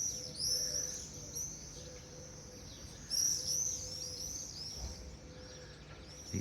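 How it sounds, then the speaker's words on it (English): Birds at Assisi, repeated high chirps and twittering calls coming in bursts over a quiet low background hum, fairly close and clear. "These birds will probably fly for an hour-ish."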